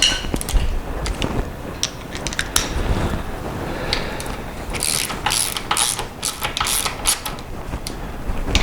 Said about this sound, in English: I'm going to put this bolt in.